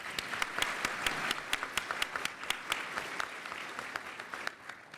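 Applause from the audience at a baseball statistical analysis panel, sustained crowd clapping with a few sharp, prominent claps standing out in an irregular rhythm, tapering off near the end.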